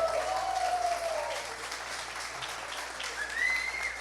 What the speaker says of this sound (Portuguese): Dá uma salva de palmas para esses irmãos.